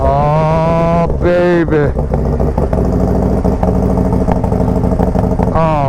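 A Harley-Davidson Road Glide motorcycle engine fires up and settles into a loud, steady, rumbling idle close by, with a brief man's exclamation over it.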